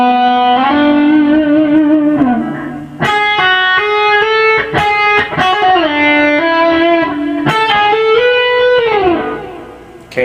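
Electric guitar through a Line6 Helix playing a solo section slowly, with sustained distorted notes, bends and slides in a steady phrase, alone and up close.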